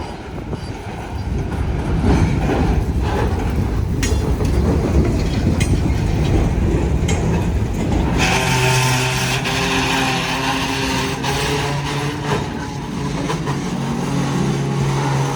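Locomotive 2002 shoves loaded railcars into place at an industrial siding in Miami, a steady, loud rumble of engine and rolling cars with squealing, clanking wheel tones rising midway and continuing to the end.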